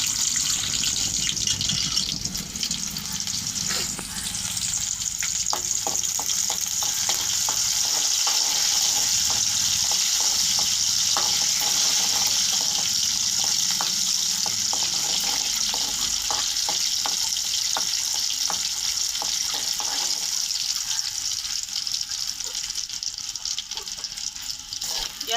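Mustard seeds and onion fry in hot oil for a prawn and gongura curry, a steady loud sizzle with scattered sharp crackles and pops running throughout, no voices.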